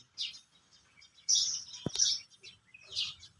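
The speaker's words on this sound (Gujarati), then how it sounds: "અત્યારે તો સવારમાં પોરમાં પક્ષીઓનો અવાજ સાંભળ્યો" Birds chirp outside on a village street in the early morning. Scattered high tweets and short calls come in a few bursts, moderately distant and faint against a quiet background.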